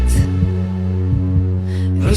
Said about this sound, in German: Hörst du unseren Herzschlag?